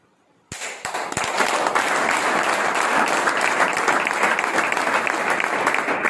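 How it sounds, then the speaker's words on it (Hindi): An audience at a business plan meeting bursts into loud, sustained applause after a brief silence, dense clapping building quickly and holding steady throughout with a few sharper claps near the start. "ये पैसे मेरे घर में है, ताली आप बजा रहे हैं।"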